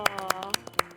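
A few sharp handclaps in quick irregular succession during a studio quiz on world history, close and crisp, with a faint sustained tone and voices under them.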